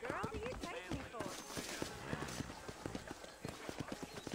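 Rapid hoofbeats clatter in a fast galloping rhythm, close and busy, mixed with game-like effects and a brief neigh, from horses in Red Dead Redemption.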